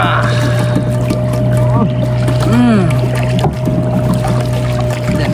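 A canoe paddled over small waves at Madol Doowa, Sri Lanka, gives a steady wash of water and hull noise with a constant low hum and faint voices, holding an even level for about five seconds.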